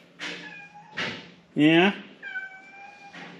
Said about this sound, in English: what's the matter over there, kitty?